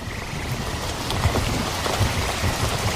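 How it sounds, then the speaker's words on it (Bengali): Heavy rain pours down on a night-time paddy field in a cartoon, a steady dense hiss with scattered drops. Frog-like croaks come through close by, and there is no talk. "সন্ধ্যা ঘনিয়ে রাত নেমে এলো, এরই মাঝে ঝমঝম করে বৃষ্টি শুরু হয়ে গেল।"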